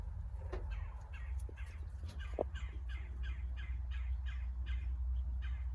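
Wild crows cawing repeatedly in a steady series around a quail pen on a homestead, harsh calls at mid distance over a constant low background rumble.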